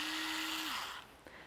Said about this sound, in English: this is another one of the little 4-volt tools that I didn't know I needed, but I loved it once I had it, is the little 4-volt scrubber